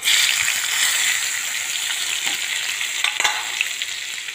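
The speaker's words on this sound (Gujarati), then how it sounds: "ડુંગળી, કેપ્સિકમ બધું સરસ સંતરાવા દઈશું આપણે" Chopped onion, garlic, green and red capsicum sautéing in hot oil with asafoetida in a pan, a steady close sizzle with occasional stirring scrapes, no voices.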